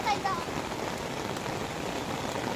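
Steady rain falling on surfaces outdoors, a dense continuous hiss with faint splashing and a few distant voices underneath.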